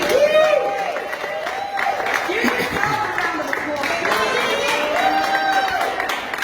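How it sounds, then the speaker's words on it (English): A crowd at a press conference on a wrongful convictions bill applauds assembly members. Clapping and crowd noise run throughout, with raised voices calling out over it. "Let's give them a hand of applause"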